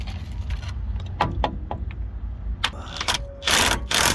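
An air impact gun rattles in short bursts while loosening the rear axle nut on an Infiniti G37/G35-type car, with scattered clicks and clanks of work before a louder, sustained burst near the end.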